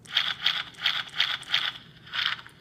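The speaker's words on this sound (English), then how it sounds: "when you flap the wings, it also moves the mouth" A Jurassic World Dimorphodon toy figure's plastic wing mechanism ratchets in six quick clicking bursts at a steady pace, loud and close, with no voices.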